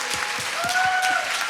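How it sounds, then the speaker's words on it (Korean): A worship congregation at a live service applauds and cheers, dense clapping with raised voices and a sustained whoop, loud and steady throughout the short burst. "여러분, 가장 큰 박수와 함성을 주님께 올려드립시다."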